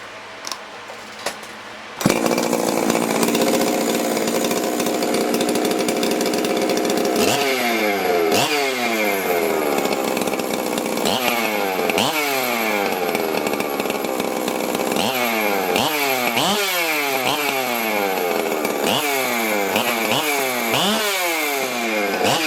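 A ported Husqvarna 371xp chainsaw engine starts and runs loud and close, holding a steady high idle, then throttles up in repeated sharp revs that rise and fall several times.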